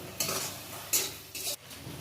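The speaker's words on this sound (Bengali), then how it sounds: "শাকটা ভাজা হচ্ছে, একটা লঙ্কা দিব।" Jute leaves frying in a pan while being stirred, with three short, bright scraping strokes over a soft, continuous sizzle.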